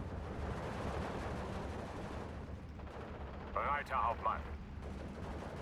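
Gunfire and artillery rumble in the Steel Division 2 video game, set on the 1944 Eastern Front at Orsha, form a dense, distant-sounding barrage, with someone briefly speaking in German over it.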